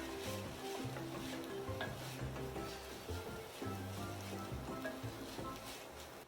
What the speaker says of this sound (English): After we've been cooking the sofrito for about 10 minutes